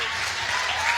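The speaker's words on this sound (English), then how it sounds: "please give her a rosy round of applause" An audience claps in sustained, dense applause at a lecture after a young woman's song, steady and full throughout the brief moment.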